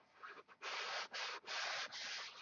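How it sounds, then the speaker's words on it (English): Several steady back-and-forth rasping strokes of a long Durablock sanding block across a flat surface of a control line P-51B model plane, fairly close, with brief pauses between strokes. "you want to use the Dura block is that, well, first off, it's a large surface and you're sanding more area"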